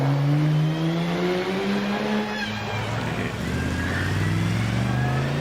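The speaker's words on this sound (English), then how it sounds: "Beautiful Chaparral Mark 1 coming out with Torres at the moment, the car of Mark Hales" A Chaparral Mark 1 race car climbs the hill at Prescott hillclimb, its engine a steady, fairly loud drone whose pitch sweeps and shifts as it passes and accelerates up the course.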